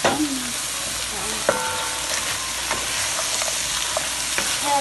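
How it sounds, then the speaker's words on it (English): Frozen mixed vegetables sizzle and fry in a pan for shrimp fried rice, with a utensil scraping and stirring through them in repeated clicks and scrapes over a steady hiss. "I'm gonna add our frozen mixed vegetables. We're gonna add all of it."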